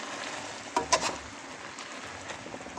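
Pancit canton noodles are stirred in a pan, with a short burst of scraping and clatter under a quiet, continuous sizzle.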